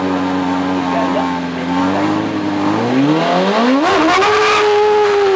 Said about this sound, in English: He's really pushing the tiny fuel-injected car into the S's on this